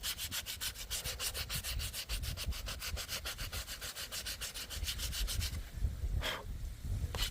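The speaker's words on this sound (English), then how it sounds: "So there'll be plenty of sanding" Rhythmic back-and-forth sanding strokes rasp steadily up close on filler on a scratch-built model boat hull, a quick regular scrubbing that loosens and slows toward the end.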